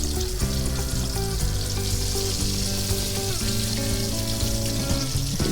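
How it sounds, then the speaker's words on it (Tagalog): Beaten egg seasoned with salt, MSG and pepper poured over eggplant frying in a pan, a loud continuous sizzle and crackle of hot oil. "Buhos lang po natin ang lahat dun sa piniprito po nating talong."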